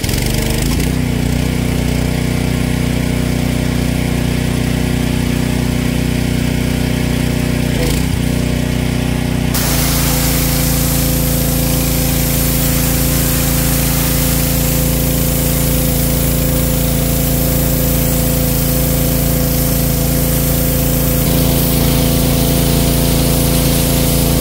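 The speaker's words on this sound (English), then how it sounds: "Now I'm going to go start the gas sprayer and show you how it's done." Gas-powered sprayer engine running steadily for paint stripping on a Shasta trailer, a loud constant drone that shifts to a fuller, rougher tone partway through and keeps going.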